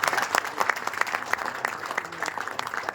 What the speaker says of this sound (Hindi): हम चाहते हैं कि उनके लिए सर एक जोरदार ताली हम लोग मारें